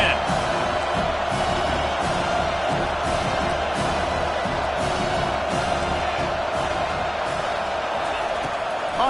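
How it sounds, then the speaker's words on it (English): A dense, steady roar from a packed stadium crowd in the college football game NCAA 25, a constant wall of noise with faint rhythmic swells and no break throughout. "The roar of the crowd trying to fuel this defense to keep them pinned in their own end"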